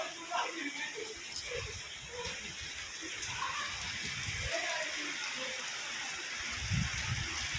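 Sudden rain falling outside in a village makes a steady, dense hiss with scattered droplet patter that stays even throughout.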